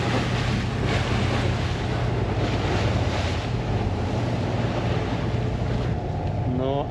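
Waves rush steadily against a boat along the Swedish coast near Grebbestad, with heavy wind buffeting the microphone and a constant engine hum beneath.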